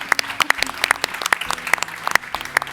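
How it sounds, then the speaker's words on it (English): A small audience at a startup ecosystem fireside chat applauds with scattered, uneven claps at moderate loudness and no speech over them. "big round of applause for her."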